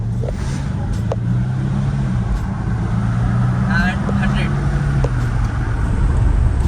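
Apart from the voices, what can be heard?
six-cylinder car with Mansory interior accelerating to 100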